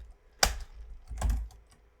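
Typing on a computer keyboard while configuring network equipment: two short, close bursts of key clicks about a second apart, crisp and fairly quiet, with no talking.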